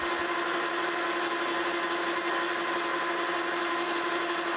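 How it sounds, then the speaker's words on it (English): A metal lathe center-drills a chuck insert, making a steady, close mechanical whir with a high tonal hum and a constant buzz of machining noise throughout. "Start by putting a center drill in here just to get that center spotted out where a drill can start."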